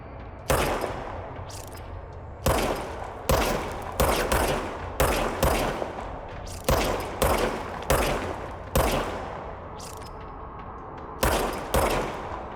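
Gunfire from the player's gun in the video game Control: loud, sharp shots in an uneven series, with about a dozen reports spaced irregularly and each trailing into a short decay. No one speaks.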